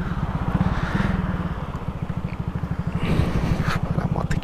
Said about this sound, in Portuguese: Vou apagar a moto aqui.